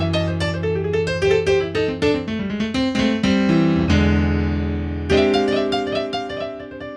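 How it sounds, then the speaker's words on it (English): A bluesy riff played on a keyboard instrument, quick runs of notes with held chords, loud and close with no voices. "blues riffs are just groups of notes that sound cool together"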